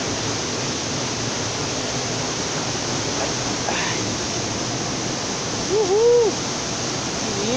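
The Concórdia waterfall in Guapimirim, Rio de Janeiro, gives a steady, loud, full rushing roar throughout, with a couple of faint whistled or chirping tones rising briefly above it near the end.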